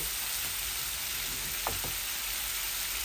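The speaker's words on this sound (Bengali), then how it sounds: "বেশি ভাজবো না এগুলাকে।" Small pieces of bagair fish frying in oil make a steady, even sizzle that stays continuous throughout, with one faint brief chirp partway through.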